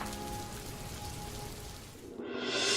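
Cartoon rain falls as a soft, steady hiss of drops that swells louder toward the end.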